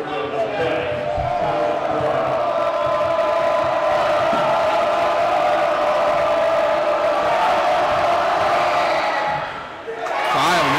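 A loud high school student section roars steadily through a boys varsity basketball game during free throws, a dense wall of cheering and yelling with an announcer talking over it, dipping briefly near the end.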